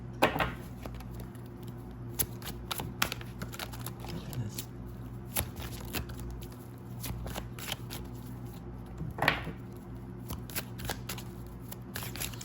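Tarot cards shuffled by hand nearby, a soft continuous riffle and slide with occasional sharper snaps, fairly quiet and with no talk.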